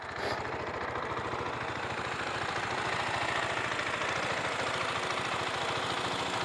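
A 2017 KTM Duke 690 single-cylinder engine with its stock muffler idles steadily nearby, a loud, continuous low throb with a dense rhythmic pulse and no speech over it.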